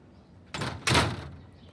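A back door opens leading out to a garden, giving two quick close bursts of scraping and rattling noise, the second longer and fuller, then fading into a quiet outdoor background.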